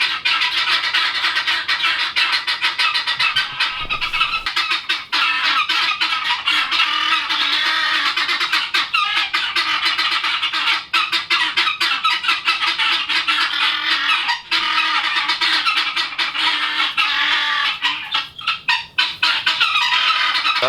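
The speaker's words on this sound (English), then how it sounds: "But the guineas are back." Guinea fowl on a homestead call excitedly in a loud, close, nonstop chorus of harsh, rapid cackling that continues throughout.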